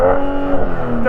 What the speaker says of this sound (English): A fruity 6-cylinder engine